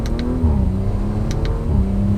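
A 2018 Audi RS5 pulls away in manual mode, its engine droning in a low steady tone that dips slightly and climbs as the car gains speed, heard up close without talk.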